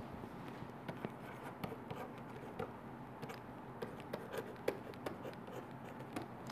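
Chalk or pen scratching and tapping on a board during a linear algebra lecture, in faint, irregular strokes over a steady room hum.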